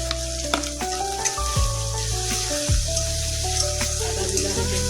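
Ginger sizzling in hot oil with already fried potatoes in a pan, a steady loud frying hiss with occasional scraping stirs of a spatula, no voices.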